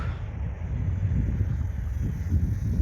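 Steady low rumbling wind buffeting the microphone, constant and fairly loud throughout with no voices.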